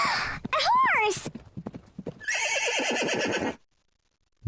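In an animated language-learning lesson, a horse gives a shrill, wavering neigh, then a quick run of clip-clopping hooves plays over a bright musical tone, all close and loud, with brief voices around them.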